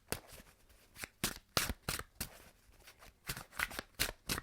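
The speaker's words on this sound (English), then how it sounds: "One more shuffle, please, for Virgo." Tarot cards are riffled and shuffled close by in a series of quick, crisp bursts with short pauses between them.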